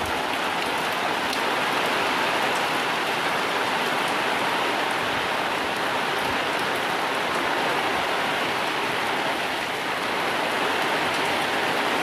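Heavy rain lashes down steadily in strong cyclone winds during Cyclone Remal, a dense, loud, unbroken hiss of drops pounding surfaces nearby, with no voices.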